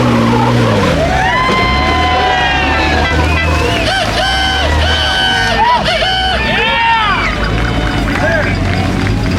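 Jeep engine revving under throttle while off-roading at an off-road games event, a steady loud drone with shifting pitch, mixed with outdoor crowd noise and people talking over it.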